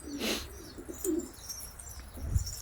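Pigeons cooing softly outdoors in Leipzig during a snowfall, with faint chirps and a brief flutter of wings, distant and quiet.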